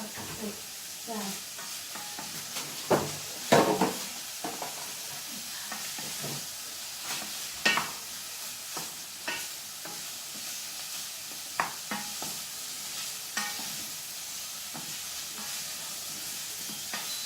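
Sausage and bacon rice being stirred in a frying pan, with a steady low sizzle and scraping utensil strokes at irregular intervals, close and moderately quiet.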